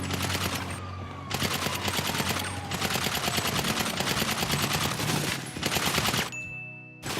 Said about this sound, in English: I just shot somebody in the back of the head.